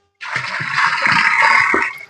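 A dissolved solution is poured into a 200-litre water drum, a loud, close, continuous gush and splash lasting about two seconds before stopping abruptly.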